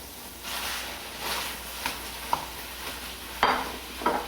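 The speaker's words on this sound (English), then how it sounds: "You have to mix your ground beef with the sofrito." Ground beef being stirred into sofrito in a pan for Cuban and Puerto Rican picadillo, a steady low sizzle with scraping spoon strokes and a few sharper knocks against the pan, close by and with no talking.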